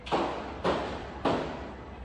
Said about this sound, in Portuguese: De repente, começam os tiros.